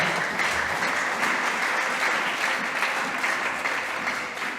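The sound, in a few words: congregation applauding in church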